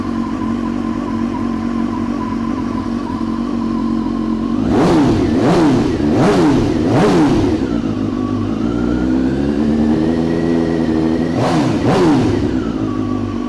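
A BMW S1000R Sport super naked motorcycle idles loudly up close, then takes a quick burst of four sharp throttle blips, settles back to a rough idle and rises in a slow climb before two more quick revs.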